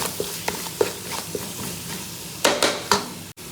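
A spoon stirs tomatoes and chicken masala frying in a pan, with steady sizzling broken by several scraping strokes, loud and close.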